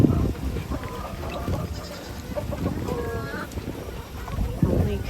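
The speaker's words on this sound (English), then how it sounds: "Here's our new sheep." Sheep bleating on a farm, several short cries mixed with close talking and handling noises, fairly loud and near.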